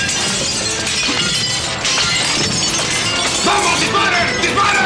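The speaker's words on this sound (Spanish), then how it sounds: "¡Rompan los cristales!" Glass windows being smashed and shattering in a violent raid scene, a loud continuous crash of breaking panes and scattering shards lasting several seconds.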